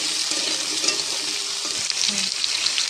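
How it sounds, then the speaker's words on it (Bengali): Potatoes frying in hot oil in a kadai, stirred now and then: a steady bright sizzle up close with soft scraping and occasional light clinks of the spatula. "কড়াইতে তেল দিয়েছি তেলটা গরম হয়ে যাওয়ার পর আলুগুলিকে দিয়ে দিয়েছি"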